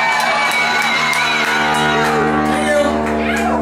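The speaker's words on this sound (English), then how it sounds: "Give them a round of applause." A live crowd shouts and cheers for a band at its debut show, loud and continuous whoops and yells filling the space close by, with a steady musical hum underneath.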